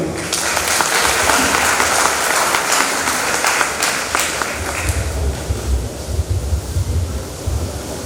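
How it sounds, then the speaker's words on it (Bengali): A large audience at the Science Olympiad 2022 gathering applauds loudly and densely for about five seconds, then the clapping thins and fades into a softer, rumbling crowd hush. "তা হাততালি দেব"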